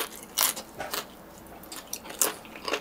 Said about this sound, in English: if you happen to hear chewing in the background, my dogs both have chew toys right now